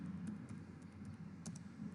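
Quiet keys clack on a computer keyboard, a handful of light, irregular taps over a steady low background hum.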